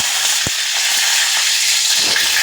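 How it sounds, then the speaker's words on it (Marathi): Curry leaves dropped into hot oil for a festive fasting thali crackle and sizzle loudly, with a sharp pop near the start and a steady frying hiss throughout. "आपलं तेल गरम झाले, आपण त्याच्यामध्ये कढीपत्ता सोडूया"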